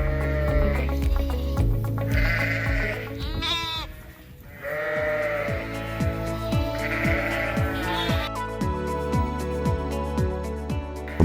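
Sheep in a high-tech farm facility bleating repeatedly over steady music, several drawn-out calls overlapping at moderate distance.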